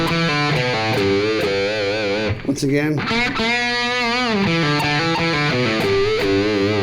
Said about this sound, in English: So this lick would sound like this.